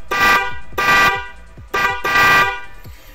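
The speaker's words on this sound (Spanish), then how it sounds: "aquí si coloco van a escuchar fuerte las bocinas" Snail-type car horns wired through a relay blast in four loud, close honks, each lasting a fraction of a second with short gaps between them, and nothing else audible.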